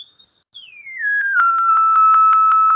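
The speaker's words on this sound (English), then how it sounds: "I can create sine wave, I can create square wave, I can create any, sound of my frequency" A loud, electronically generated sine-wave tone glides downward in pitch, then holds steady with a series of evenly spaced soft pulses, heard alone without speech.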